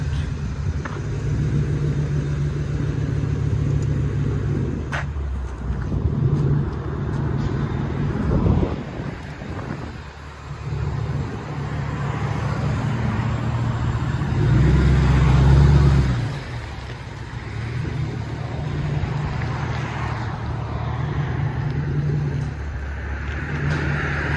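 A Ford Mustang GT with a straight pipe exhaust idles outdoors in a deep, steady rumble that swells slightly at times, with wind buffeting the microphone throughout.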